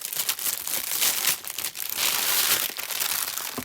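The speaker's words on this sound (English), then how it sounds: "I'm going to crinkle for a minute." Continuous crinkling and crumpling of plastic wrapping from a diamond painting kit unboxing, close and moderately loud, with brief pauses, no speech.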